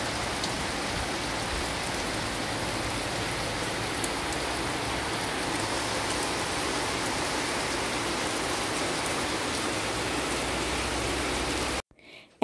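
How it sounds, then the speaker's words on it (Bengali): Heavy rain pours down in a dense, steady roar close by, a continuous wash of drops on surfaces with no talk, cutting off abruptly near the end. "এত জোরে আবার বৃষ্টি এসছে"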